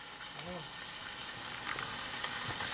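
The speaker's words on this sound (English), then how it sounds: "I was just showing them what you're frying there." Food sizzles and crackles in a pan on the stove, a quiet steady frying hiss throughout with brief clinks and faint household voices.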